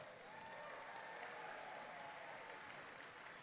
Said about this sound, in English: how about a big round of applause for all our guests?